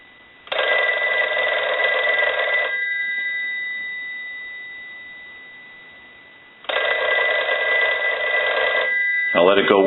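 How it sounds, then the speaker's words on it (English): A Western Electric 302 rotary telephone bell rings loudly in two long bursts separated by a pause, with a brief sound at the end. "And we'll go ahead and ring the telephone."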